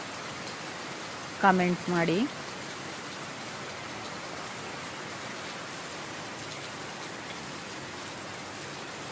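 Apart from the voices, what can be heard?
heavy rain falling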